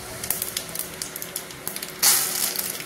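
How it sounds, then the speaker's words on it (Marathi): Mustard seeds and cumin splutter in hot oil for a tempering, a steady stream of small sharp pops and crackles, building into a louder, denser hiss of frying toward the end. "तर जिरे आणि मोहरी चांगली तडतडलेली आहे."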